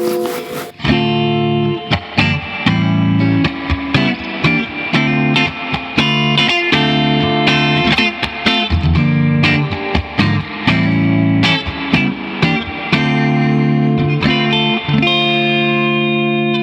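Electric guitar played through a Fender Hot Rod Deluxe amp with the gain at 9 and heavy reverb, giving loud, distorted strummed chords and picked notes in a steady rhythm that fill the whole stretch.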